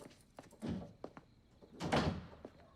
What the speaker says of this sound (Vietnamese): Đóng cửa lại.